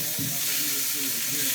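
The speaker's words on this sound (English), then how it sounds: "this has been having a good sizzle away over here" Bacon and eggs sizzle steadily in a frying pan, a close, continuous hiss with soft popping and faint low murmurs underneath.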